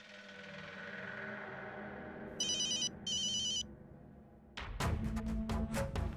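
A phone rings with two bursts of electronic tone in the middle of a tense kidnapping drama scene, over a low background score, and then sharp dramatic hits follow.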